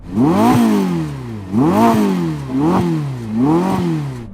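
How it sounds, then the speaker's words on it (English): A Ferrari engine revs hard four times in a row, each rise in pitch climbing and falling back, loud and close with no talking. "But just to be sure, rev up the Ferrari."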